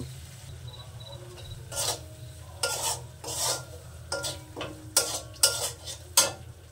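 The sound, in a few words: stirring and frying masala spice paste with turmeric in pan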